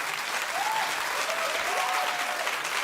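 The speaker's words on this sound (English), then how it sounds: "Oh, keep clapping." A television talk-show studio audience claps in a dense, even burst, with a few faint whoops rising above the steady applause.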